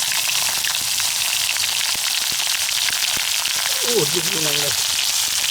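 Small sepat rice-paddy fish fry in hot oil, giving a dense, loud, continuous crackling sizzle throughout, close up, with a short spoken remark near the end.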